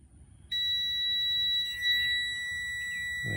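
A multimeter gives a steady high-pitched continuity beep, starting sharply and holding alone, while its probes test the neutral of a chest freezer plug.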